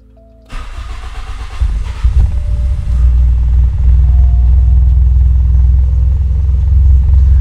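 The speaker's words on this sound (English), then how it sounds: "Okay, that's a bad example because my car is now already running" A car engine cranks and starts on a base map from a standalone ECU, then settles into a steady, loud idle rumble close by, with no talk.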